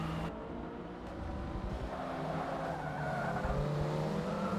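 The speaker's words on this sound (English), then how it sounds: "Like that shaky cam stuff when the cars go by is kind of cool." Race cars in the video game Forza 6 sweeping past with loud, layered engine drones and tire squeal, the whine shifting in pitch as they pass, continuous for the whole stretch.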